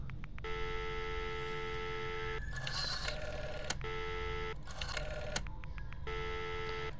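An old landline telephone is dialed, with repeated steady tones broken by short clicking bursts of the dial mechanism over a low background hum, fairly faint and without talk.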